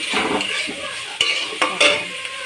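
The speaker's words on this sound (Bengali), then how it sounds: "আর বিনস, কেটে রাখা বিনস। এবার এটাকে নাড়ব।" Chopped carrots and beans for momo filling are stirred in a hot pan, with a bright close sizzle, a few sharp spatula scrapes and knocks against the metal, and no voices.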